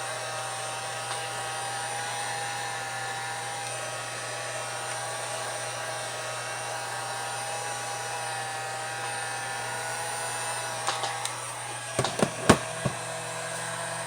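A heat gun or blow dryer runs steadily on wax-based furniture polish, a constant close whirring blower hum, with a few faint clicks and taps near the end and no speech.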